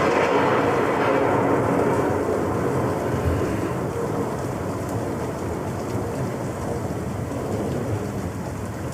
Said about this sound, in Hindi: ये तूफान कब खत्म होगा यार?